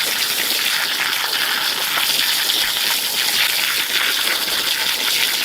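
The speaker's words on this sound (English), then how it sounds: "we're going to hit it with some water. Again with the jet." A garden hose jet blasts water down around tree roots in the soil while a food forest is planted. The rushing gush is loud, close and continuous, with no talking.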